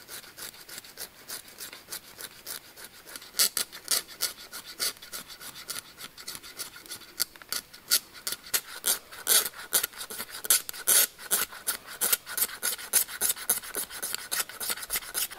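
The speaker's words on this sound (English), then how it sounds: "I'm gonna use the metal guard from the lighter itself to scrape the plastic and create some shavings" The metal guard of a lighter scrapes the lighter's plastic body into shavings, with rhythmic rasping strokes repeating close up throughout and no talking.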